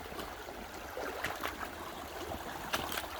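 Creek water flows and trickles steadily outdoors, a soft continuous wash of moving water with faint gurgles and no voices.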